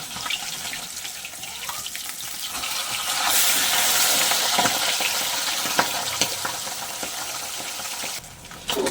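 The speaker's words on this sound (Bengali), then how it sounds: "মাছটাকে এবারে ভেজে নেব" Pabda fish fry in hot oil, a continuous hissing sizzle that swells louder midway and settles back, with occasional sharp pops and crackles, close and fairly loud, no voices.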